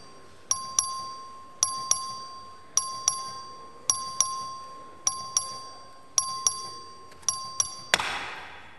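Voting bell in the Texas House chamber sounds as a series of evenly spaced double chimes, about nine pairs, ringing clear and bright, then ends in a brief burst of noise.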